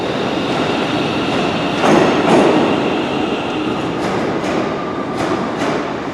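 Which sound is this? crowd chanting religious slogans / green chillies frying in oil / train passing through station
train passing through station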